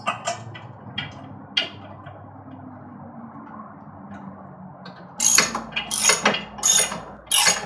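A hand ratchet clicks in short bursts while bumper mounting bolts on a Can-Am Maverick UTV are run in, with quiet gaps between strokes and a louder, faster cluster of ratcheting near the end.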